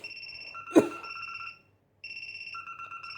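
Alarm tone 'Alarm 6' from a Nokia Lumia 635 phone: a clean electronic chime with sustained tonal notes, a brief louder burst near the start, a short pause, then the tone resumes, alone without speech.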